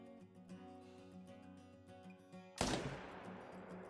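A single sharp bolt-action rifle shot at an outdoor shooting range cracks loudly after quiet background music, followed by a brief decaying echo.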